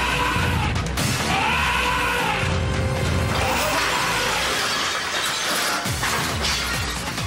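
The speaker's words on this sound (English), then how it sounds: "The petrified pachyderms then crash through the plate glass windows of a nearby restaurant." Frightened elephants rampage through a city street and smash through a restaurant's plate glass windows: a loud, chaotic mix of shattering glass, crashing, rumbling and shouting that continues densely throughout.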